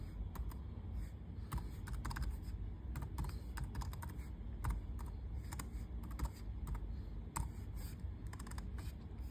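A directory command typed on a computer keyboard, with a steady, irregular run of soft close key clicks over a low background hum, no voices.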